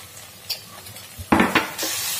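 Honey being stirred into crispy fried honey chilli potatoes in a pan, a few close scrapes and knocks of a spoon over a steady sizzle, with no talk.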